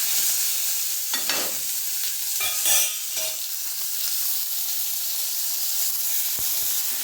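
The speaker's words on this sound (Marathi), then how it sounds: "चांगली अशी फ्राय करून घ्यायची." Two brinjals fry in a pan of crackling mustard seeds with turmeric, giving a steady close sizzling hiss broken by a few scraping stirs, with no talking.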